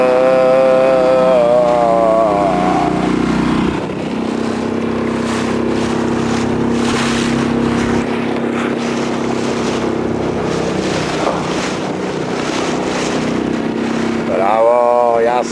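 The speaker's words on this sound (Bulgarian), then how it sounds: "И бурята от всекъде." Storm wind gusting around a boat at sea, a broad steady roar with rushing wash and rumbling motor-like drone, loud and close throughout, with voices briefly over it near the start and end.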